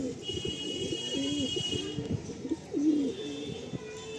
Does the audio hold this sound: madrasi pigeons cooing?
yes